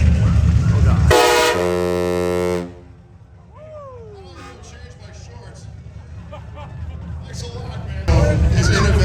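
A loud, sustained horn blast from the Chainsmoker show vehicle at SEMA 2025, with a rich, buzzing harmonic tone lasting over a second, followed by crowd noise and talk. A second loud burst starts at the very end.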